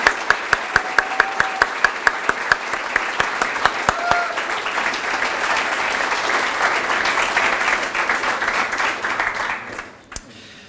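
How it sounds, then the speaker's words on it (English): A round of applause from the audience at a medical center residency graduation ceremony. It opens with sharp, regular claps, swells into loud dense clapping, then tapers off near the end with a couple of last claps. "Let's give them all a round of applause."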